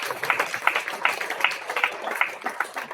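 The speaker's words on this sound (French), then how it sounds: "je pense que on peut s'applaudir pour ça" An audience at a debate on Palestinian rights applauds, a steady wash of clapping with rhythmic swells, moderately close.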